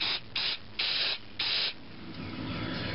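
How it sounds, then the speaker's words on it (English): Short bursts of aerosol cleaner sprayed into the carburetor of an Echo PB-400E backpack blower during a rebuild, four sharp hissing blasts in quick succession, then a fainter, longer spray fading off. "We'll spray through it too."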